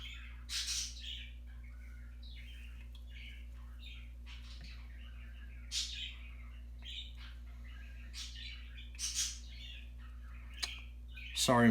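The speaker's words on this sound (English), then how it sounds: "my birds are going crazy" Pet birds indoors let out repeated sharp squawks and chirps in scattered bursts over a steady low hum, fairly close and loud against the quiet room.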